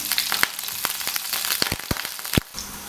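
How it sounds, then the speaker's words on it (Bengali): Chopped onions fry in oil with a steady sizzling hiss broken by sharp crackles and pops. "এক চা চামচ পেঁয়াজ কুচি তেলের মধ্যে হালকা করে ভেজে নেব"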